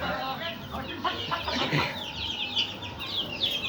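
Ornamental Turkish chickens cluck in soft, scattered calls at moderate distance over a low steady background hum, with a few brighter chirps toward the end.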